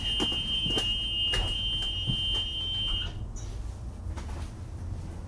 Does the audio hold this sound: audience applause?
no